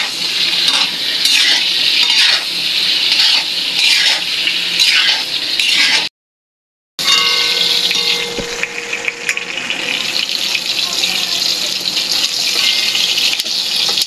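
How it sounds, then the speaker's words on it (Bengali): Pointed gourd (potol) fries in a pan, giving a loud, steady oily sizzle and hiss that cuts out briefly before resuming. "পটল ভাজা হয়ে গেছে, বলো।"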